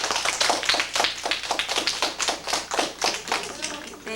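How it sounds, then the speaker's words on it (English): A class of fifth-grade schoolchildren claps for a visitor, a dense, steady patter of many hands close by that runs for about four seconds with a few voices mixed in. "Everybody clap for our visitor."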